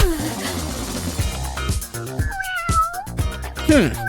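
A cartoon cat meows in an interactive Sprunki gamebook game, with music and a voice running alongside. A clear, sharp meow rises near the end over a busy mix.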